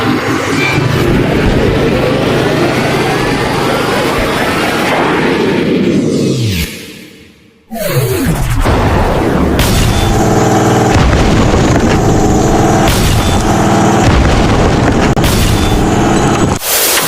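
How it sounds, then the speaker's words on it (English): A redesigned anime explosion from the Gurren Lagann movie, where Super Tengen Toppa defeats the Anti-Spiral, roars loudly with a long rumbling blast, drops to near silence, then slams back with heavy booming impacts and sustained crackling roar. "this explosion is from Gurren Lagann, the movie when Super Tengan Toppa defeats the anti-spiral"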